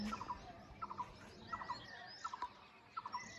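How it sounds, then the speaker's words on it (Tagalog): Birds call outdoors on a hillside farm in Azad Kashmir, Pakistan, in short repeated bursts of chirps, about one cluster every three-quarters of a second, over a quiet background. "Karinig ko yung mga ibon lang."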